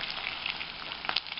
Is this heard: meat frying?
yes